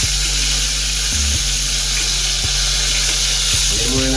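Tilapia fries in hot oil in a home kitchen, a steady close sizzle running the whole time, broken by a few low knocks and clatters of a pan or utensil.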